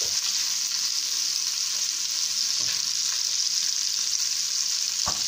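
Fresh salmon sizzles in a frying pan, a steady, even crackle of fat and oil held at a constant level throughout, with an occasional faint clink of utensils and no voices.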